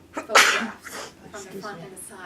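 A single loud sneeze bursts out mid-sentence, briefly overpowering a person speaking calmly about posture photographs, whose talk carries on right after it.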